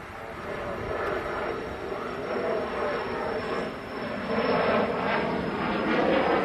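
Airplane taking off at Manchester Airport, a broad continuous jet roar heard from a distance that swells gradually over several seconds.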